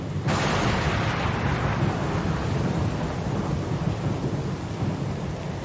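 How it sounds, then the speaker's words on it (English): Thunderstorm in the video game Pillars of Eternity 2, loud heavy rain with a deep rolling thunder rumble that starts abruptly and fills the whole stretch. "Lost and alone in the storm?"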